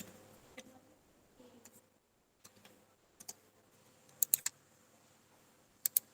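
Sparse, faint keystrokes on a computer keyboard while entering depreciation figures in Tally accounting software: scattered single taps, then a few sharper clicks in quick pairs near the end, with no talk.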